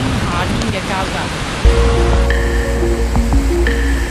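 A steady, loud roar of rushing water from Seljalandsfoss waterfall in Iceland fills the whole stretch, with a voice talking over it early on and some steady tones joining later.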